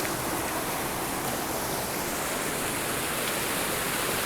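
Creek water rushes in a canyon as a steady, even hiss of flowing water, close and unbroken throughout with no voices.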